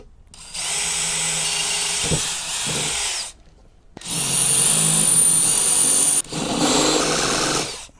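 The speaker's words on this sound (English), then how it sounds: "Let's go ahead and drill through that." A power drill runs in three bursts, whirring steadily while boring a hole in a Lexus SUV, with short pauses between runs and a slight bite in pitch.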